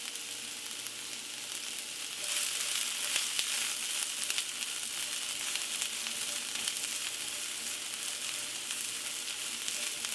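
Onions and crushed red pepper sizzle and fry steadily in a skillet, a continuous close crackle with no one speaking.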